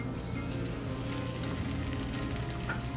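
An egg fries in oil in a non-stick pan over medium heat, giving a steady, close crackling sizzle with small pops for the whole stretch, and no voices.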